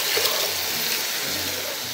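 Water is poured steadily into a pot before cooking rice, a continuous close splashing rush with no one talking.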